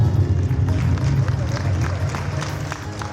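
Strong audience applause at a mela festival stage for a Kathak dancer, a dense steady wash of many hands clapping with crowd murmur underneath.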